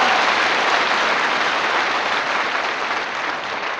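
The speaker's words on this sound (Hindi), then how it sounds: "एक बार सर के लिए जोरदार ताली।" An audience at a business seminar in Patna applauds loudly and steadily, clapping close and dense for a few seconds before it fades a little.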